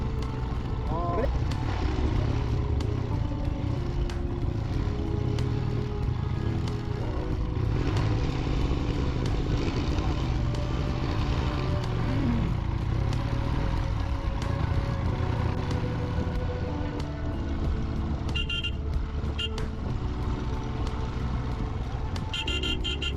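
Motorcycle ride through Ladakh between Nubra Valley and Pangong Lake, with a steady engine drone and road noise throughout, occasional horn toots and clatter, and voices in the background.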